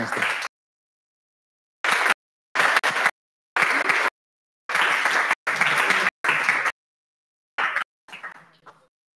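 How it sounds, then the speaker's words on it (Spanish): Audience applause closing a conference talk on the video game industry, several loud bursts of clapping separated by silent gaps, ending in a fainter patter. "vamos a darte un fuerte aplauso"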